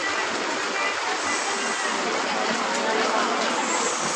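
Rainwater rushes through a flooded vegetable market, a loud, steady wash of flowing water with faint voices mixed into the background.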